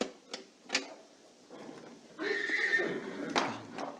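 A horse whinnies loudly in an audio drama scene, with hoof clip-clops and sharp knocks before it, fairly close against a quiet background.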